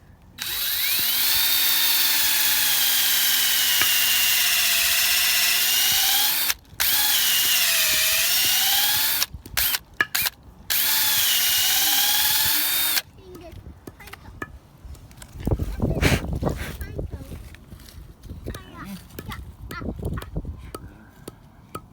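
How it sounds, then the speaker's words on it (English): A power drill whines at close range boring a tap hole into a maple tree, in long runs broken by short pauses, then stops. Quieter rustling and voices follow. "We're gonna drill our hole."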